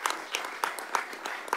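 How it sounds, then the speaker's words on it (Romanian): Applause at a contract signing ceremony for a metro design and construction project, a room of people clapping in a loose, brief burst of separate claps. "Se poate aplauda"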